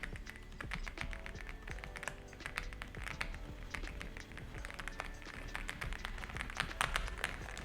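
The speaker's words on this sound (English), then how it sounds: "Here's what the keyboard sounds like." Rapid, continuous typing on an Aula F75 Max budget mechanical keyboard, with crisp, close, evenly paced key clacks and the occasional heavier stroke, heard alone without any voice.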